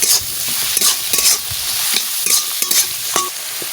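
Garlic and ginger paste fry with pointed gourd and chicken in a pan, loud sizzling broken by repeated scraping stirs in an uneven rhythm.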